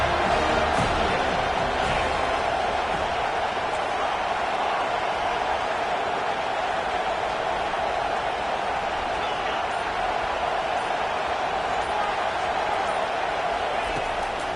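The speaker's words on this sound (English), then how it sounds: "Decibels rising as the crowd gets behind this defense on third down." Stadium crowd at a Miami versus Florida State football game roaring steadily on third down, a loud, dense wash of cheering that holds for the whole stretch with no break.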